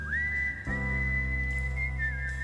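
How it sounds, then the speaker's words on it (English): A sustained, steady whistled tone holds nearly level with slight wavers, over a low droning hum in the background. "There is something about whistling"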